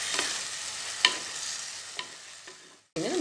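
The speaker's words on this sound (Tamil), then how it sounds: "அப்புறம் சிக்கனை போட்டு நல்லா ஒரு பெரட்டிக்கலாங்க" Chicken for a Chettinad masala is stirred and fried in a pan, with a soft sizzle under distinct scraping strokes at irregular intervals, a brief pause, then a louder burst of frying.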